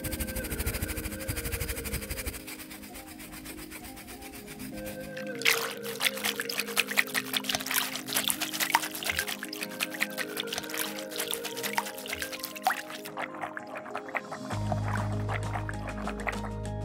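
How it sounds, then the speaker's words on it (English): A grimy toy bear is scrubbed with dish soap and water, giving a steady wet rubbing and swishing that starts as a hissy wash and turns into dense, brisk scrubbing strokes, close and moderately loud. "Cover it in dish soap and scrub away the dirt."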